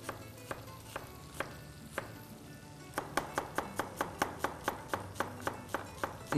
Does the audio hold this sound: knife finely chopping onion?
yes